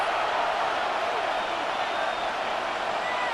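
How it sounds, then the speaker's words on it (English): A Buffalo stadium crowd in Madden 26 keeps up a steady, distant roar of booing, with a broad wash of massed voices and no single standout shout. "This Buffalo crowd letting them have it."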